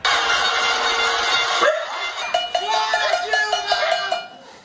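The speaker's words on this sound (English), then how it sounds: "Her critics had organized a kind of pot-banging protest" A pot-banging protest crowd bangs on pots with rapid, ringing metallic clangs over a dense, steady roar of noise, loud and continuous throughout.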